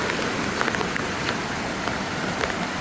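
Heavy rain pours steadily on the Devkund Waterfall trail, a dense, loud, unbroken hiss of drops on surfaces with no voices.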